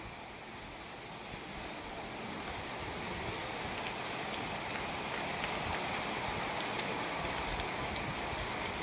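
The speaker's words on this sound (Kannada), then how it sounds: "ಮಳೆನ ಸ್ಟಾರ್ಟ್ ಆಗಿಬಿಡ್ತು" Steady rain pours down in a continuous, even hiss of drops, growing slightly heavier with no voices.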